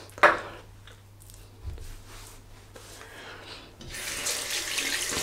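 A bathroom sink tap runs as a Gillette Tech double-edge safety razor is rinsed, a steady splashing wash that swells louder toward the end, with a sharp knock near the start.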